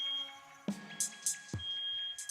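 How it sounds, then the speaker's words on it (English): A household fire alarm sounds a high, steady electronic tone that holds and breaks off, mixed with sharp chirps and knocks nearby. "Well, that's my fire alarm."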